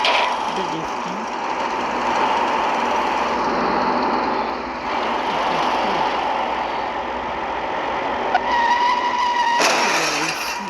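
A vehicle drifts in a video game, its engine droning steadily while tires skid and squeal, loud and continuous throughout.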